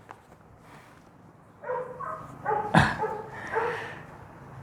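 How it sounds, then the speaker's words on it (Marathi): A dog barks nearby in a series of several sharp barks with short gaps, moderately loud over a quiet indoor background with low hum. "म्हणून हा कुत्रा भुंकत राहतो आपल्या इथं"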